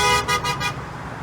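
A caravan of cars lined up at a protest march against a lockdown order, with a steady engine and traffic rumble and a few short horn toots early on, fairly close.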